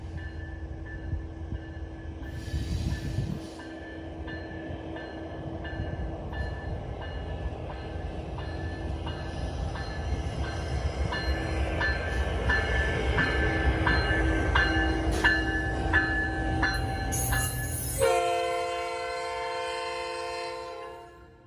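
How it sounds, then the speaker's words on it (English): An SD70 freight locomotive passes heading into Harrison Yard, its engine rumbling alongside rolling freight cars, with several horn blasts and a final loud, prolonged horn sound near the end. "another SD70 was also making its way to Harrison Yard."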